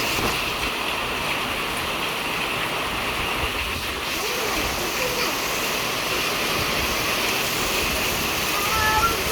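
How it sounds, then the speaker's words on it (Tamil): Heavy rain pours steadily outside a home with its balcony and main doors open, a dense, even roar of water that holds at a constant level throughout with no break. "செம்ம மழை."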